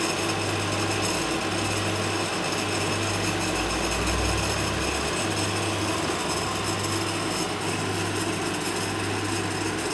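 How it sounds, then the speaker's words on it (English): A hard, steady buzzing from gas forced through the capillary tube of a van fridge, continuous and even for the whole stretch with a constant low hum beneath, close and alone with no talk. "there's a hard sort of buzzing noise. It's the noise of the gas going through the capillary."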